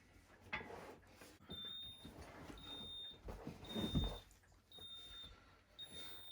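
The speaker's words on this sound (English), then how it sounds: "So when you turn it on, it makes this beeping noise." A Hoover carpet cleaner gives a series of short, high electronic beeps after being switched on, five or so evenly spaced tones over faint handling clatter in a quiet room.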